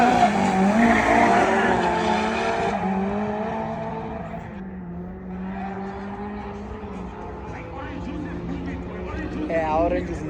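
Race cars at a South African car show, engines roaring and tires squealing loudly and continuously, with a high screeching skid near the end and people talking over the noise.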